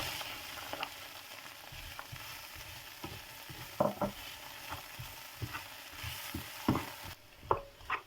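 Pre-fried potatoes sizzle steadily in a pan, with the scrape and clatter of a utensil stirring them at intervals, close and alone with no voices.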